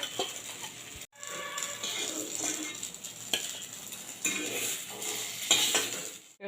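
Stuffed pointed gourds fry gently in oil on low heat, a soft continuous sizzle with occasional light clinks of a utensil against the pan and a brief gap partway through.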